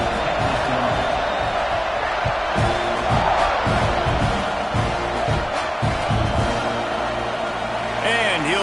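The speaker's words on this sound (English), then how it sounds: "this crowd is buzzing after that last score" Football stadium crowd at a TCU at Texas A&M game buzzing after a fourth-quarter score before a kickoff, a steady loud wash of crowd noise with low thumps and some faint voices mixed in.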